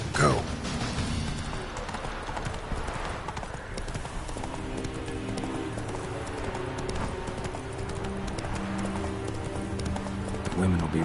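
Horse hooves gallop in The Witcher video game, a steady, fast clip-clop rhythm running throughout at moderate loudness, with game sounds and faint speech beneath.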